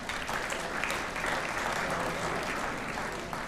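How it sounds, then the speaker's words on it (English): Steady applause from a crowd at a school sports banquet, many hands clapping in a continuous wash at moderate volume, with no talking over it. "give yourself a round of applause for that."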